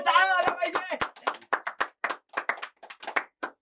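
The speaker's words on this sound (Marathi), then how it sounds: "एकदा जोरदार टाळ्या वाजवा पाहिजे." An audience at a music event applauds a former opening batsman with a few scattered, separate claps. The claps come right after a short burst of speech and continue irregularly, moderately close.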